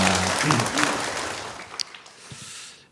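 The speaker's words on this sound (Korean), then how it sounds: "우리 박수 한 번만 더 보내주실까요?" Church congregation applauding on its founding anniversary Sunday, a full round of clapping that starts loud and gradually thins out over about two seconds, with a few scattered claps before the room falls quiet.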